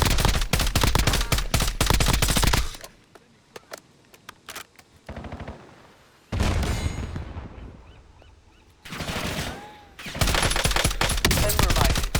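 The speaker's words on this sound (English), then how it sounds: "Incoming fire." Bursts of rapid automatic gunfire in a shooter video game's gulag fight, loud dense volleys separated by quieter gaps with scattered single shots, returning hard at the end.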